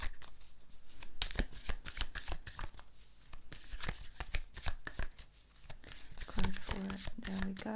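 Tarot cards are shuffled and drawn by hand in a rapid burst of crisp riffling and flicking, close and fairly quiet, with a voice speaking over the later cards.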